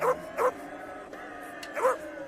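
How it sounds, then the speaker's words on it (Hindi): Several dogs bark and yip while chasing a fleeing rickshaw, three sharp bursts spaced apart, fairly close and loud over a steady background hum, with no voices. "इन कुत्तों को भी अभी पीछे पड़ना था।"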